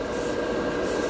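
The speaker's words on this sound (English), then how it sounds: "It's a real efficient airbrush. It doesn't need a lot of air" An efficient airbrush spraying Mr. Metallic Color GX paint, a steady close hiss of air and atomized paint that runs unbroken through the moment without talk.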